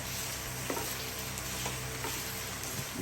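Sago pearls shallow-frying in a non-stick pan: oil sizzles steadily and densely, with a few soft scraping stirs cutting through the constant crackle.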